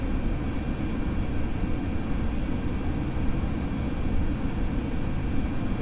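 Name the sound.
aircraft engine in video game Flight Simulator X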